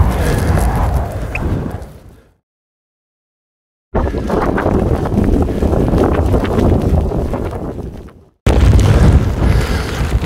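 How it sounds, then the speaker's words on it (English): Strong gale-force wind on a Dartmoor tor buffets the microphone in loud, roaring gusts, broken by a couple of abrupt silent gaps. "It's gale force up here, really windy."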